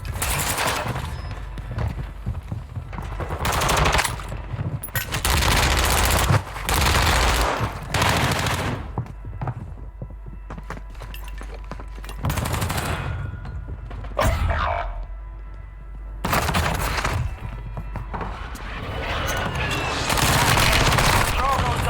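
Sustained gunfire in Call of Duty Warzone 2: repeated bursts of automatic fire and heavy shots in a long, loud, irregular fusillade, broken by brief quieter gaps, with occasional game voice lines over it.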